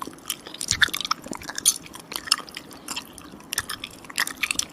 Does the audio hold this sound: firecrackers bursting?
no